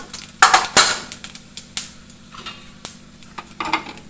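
Mustard seeds and cumin frying in hot oil in a pan, a sizzling hiss with sharp pops and spoon scrapes against the pan in a loose, irregular rhythm.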